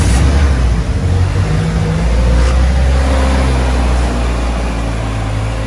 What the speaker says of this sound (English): Electronic fuel pump comes on, and then we go ahead and fire up the car right here.